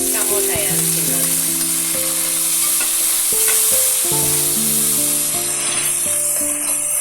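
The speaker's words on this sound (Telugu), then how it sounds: "ఇప్పుడు దీంట్లో టమోటా వేస్తున్నాను" Tomatoes go into a pan of frying mutton and reddened onions for a village mutton curry, bringing a steady broadband sizzle with stirring clatter and scraping on top, close and continuous throughout.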